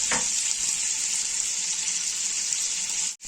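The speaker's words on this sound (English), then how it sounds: "And there it is, all on the stove, boiling away." Clam chowder with bacon bubbling and sizzling in a pot on the stove, a loud, steady hiss that holds evenly for several seconds before cutting off abruptly, with no one talking.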